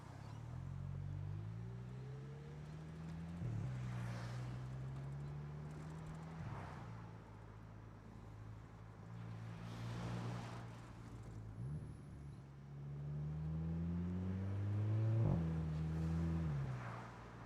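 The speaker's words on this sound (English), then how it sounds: "Not sure if you can pick up the sound of this car" A 2-litre four-cylinder front-wheel-drive car driving, its engine droning steadily from inside the cabin and rising and falling in pitch as it shifts up through the gears, fairly faint.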